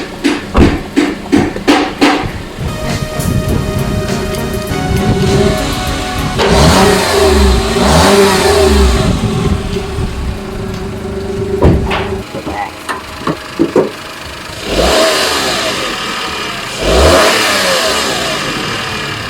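Engine of a 2024 Toyota Wigo with CVT revs up and falls back several times while parked with the handbrake on, heard close and loud, with clunks and knocks around it.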